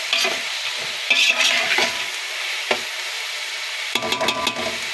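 Tomatoes being stirred into chicken biryani masala in a pan, with close, irregular scrapes and clacks of the spoon over a soft sizzle and pauses between strokes.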